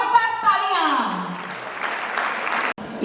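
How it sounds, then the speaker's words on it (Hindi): Sustained audience applause at a program event, a dense, steady wash of many hands clapping throughout, with a brief dropout near the end, and loud, close-sounding crowd noise. "जोरदार तालियां।"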